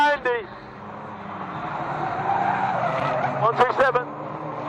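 Race cars skid with squealing tyres on the track at Fleet Raceway during an old boys race meeting in 2005, sharp screeches at the start and again near the end over a steady engine roar.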